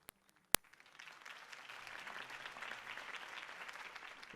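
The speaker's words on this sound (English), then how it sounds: "could have heard that applause" Steady video game crowd applause swells after a couple of sharp claps and builds to a sustained, fairly distant roar of clapping.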